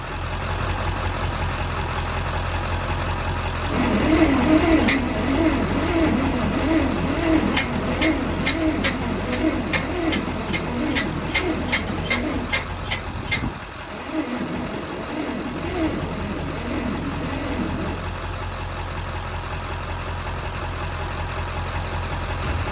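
An old Bantam truck crane engine, long left in a quarry and fed by jumper cables, cranks over and over with a steady churning rhythm, catching into rough, uneven running with sharp clicks and pops along the way, heard up close without talk.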